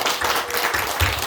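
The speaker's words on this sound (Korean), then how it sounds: "우리 하나님께 영광의 박수 올리겠습니다" A church congregation claps at a service marking the church's 70th anniversary and Children's Sunday. The burst of clapping is brief, dense and fairly close.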